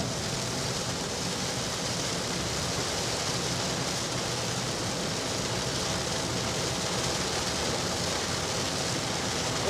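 Steady rain pours down during a rainstorm while driving home through Wisconsin, a dense, even wash of noise that holds constant and fairly loud throughout with no talk.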